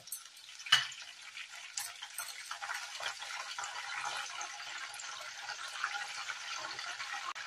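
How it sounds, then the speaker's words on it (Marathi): Salt water is poured into hot oil for Jalgaon-style banana chips, followed by a sharp burst and then a steady close crackling sizzle that continues throughout, without talk. "आता आपण मिठाचं पाणी टाकू, म्हणजे याच्यातच तेलामध्येच त्याला खारटपणा येतो।"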